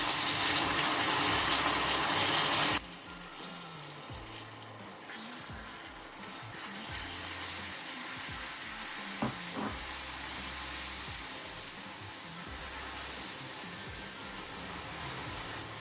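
Hot cream poured into melted sugar caramel and stirred quickly, giving a loud burst of bubbling sizzle for the first few seconds that settles into a quieter, steady hiss and spatter with faint stirring clicks.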